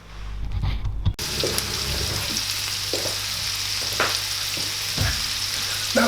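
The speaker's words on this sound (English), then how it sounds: "Now that these are sizzling away quite nicely" Steady, loud sizzling of peppers and onions frying in a pan, a constant bright crackle with occasional soft clinks and stirring bumps.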